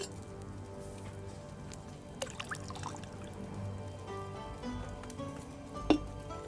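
Water poured into an alchemy cauldron in Kingdom Come: Deliverance 2, a soft, steady trickling pour over quiet background ambience with a few small clinks.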